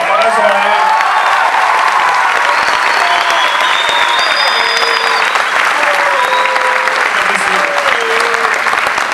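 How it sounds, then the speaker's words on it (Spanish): A convention crowd at Comic Con Argentina applauds and cheers loudly and continuously, with shouts and whistles rising over the dense clapping. "Un aplauso para él."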